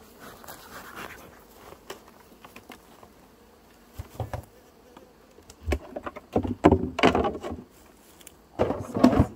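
Bees buzz around opened beehives during a hive inspection, faint at first, then growing louder with clustered bursts of buzzing and clattering frame handling up close.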